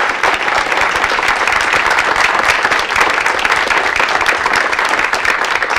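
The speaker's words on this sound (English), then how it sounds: "so we can all give you one more round of applause" Loud, sustained applause from the audience at a school Board of Education meeting, honouring student athletes: many hands clapping in a thick, even wash that never lets up.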